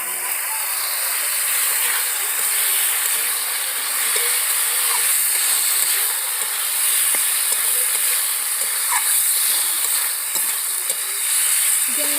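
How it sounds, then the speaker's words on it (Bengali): Chicken pieces sizzling and frying in a pan while being stirred for a chicken and cauliflower curry, a steady loud hiss throughout with occasional faint scrapes. "চিকেনগুলোকে এবার আমি ভালো করে কষিয়ে নেব।"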